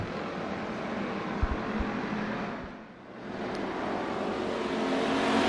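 Race car engines roar continuously at Bakersfield Speedway, a loud broadband drone that dips briefly as a car passes, then swells again, with no talk over it.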